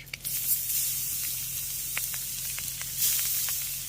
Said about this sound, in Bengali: আদা আর কাঁচা লঙ্কাটাকে ভেজে নেওয়ার পর এর মধ্যে দিয়ে দিচ্ছি গ্রেট করে রাখা বিট